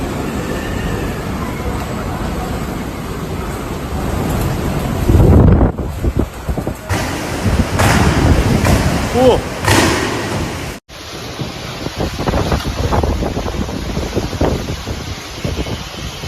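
Typhoon Bebinca batters Shanghai with strong wind and torrential rain, a loud continuous roar of gusts buffeting the microphone and rushing water, with no break across the whole stretch.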